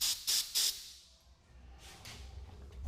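Compressed air blasts under a Ducati 1299 Panigale handlebar grip to loosen it: three short, sharp hissing bursts, then a fainter steady hiss of air.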